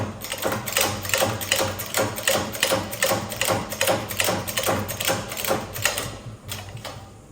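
A shop press pushes a new wheel bearing into a Honda/Acura hub, giving a steady, regular series of mechanical clicks and ratcheting pulses, close and even-paced, with no voices.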